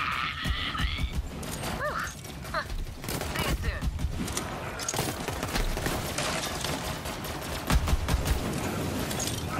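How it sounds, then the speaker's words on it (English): Gunfire in Borderlands 3 rattles in dense, continuous bursts over about ten seconds, with crashes, impacts and busy game sound effects layered loudly throughout. "Wait, am I getting shot from behind?"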